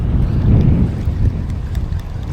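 Strong wind buffets the microphone on a boat on the Swan River in Perth during fishing casts, a steady low roar with gusty rumble and faint water wash, with no voices.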